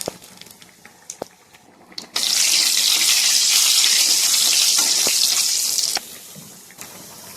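Water poured into a hot pan of oil with cumin, dried chillies and bay leaf while frying spices for a fish curry, giving a loud, steady sizzling hiss for about four seconds between quieter kitchen clatter.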